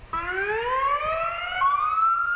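A hospital ambulance siren from Deaconess Memorial Medical Center in a street parade, a clear rising wail that steps up in pitch, close and loud over faint crowd murmur.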